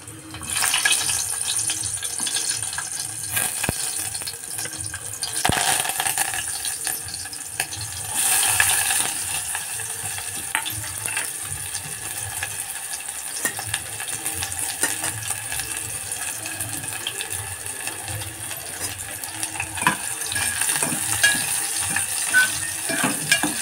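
Garlic cloves, half an onion and curry leaves tempering in hot oil for a clam curry, giving a loud, continuous crackling sizzle that holds steady throughout with brief stirring bursts and no talk.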